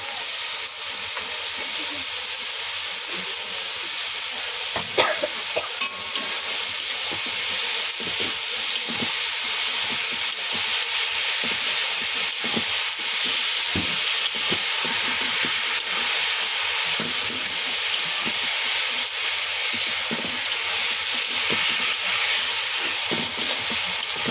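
Tomato fries in a pan for shidol shutki bhorta, giving a steady, loud sizzle and hiss that continues unbroken throughout, with occasional faint clinks and no talking.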